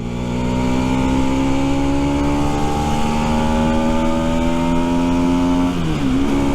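Rieju Century 125 motorcycle pulling through town, engine tone climbing smoothly under acceleration and then dipping briefly near the end as it shifts, loud and close with a steady droning whine.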